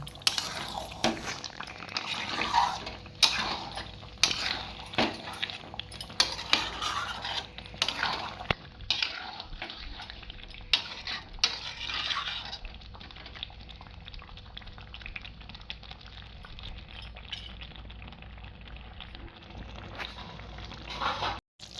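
Chicken pieces stir-fried slowly in a pan over very low heat for a Bengali chicken curry, a steady soft bubbling and sizzle with occasional scrapes and clinks of a spoon against the pan, close and continuous.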